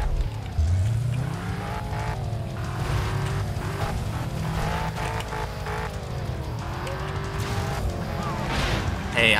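A car driving and spinning in the video game Carmageddon: Reincarnation, with continuous engine drone, rising revs and tire squeals throughout, loud and busy, with game sounds layered on top.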